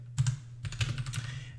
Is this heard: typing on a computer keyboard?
yes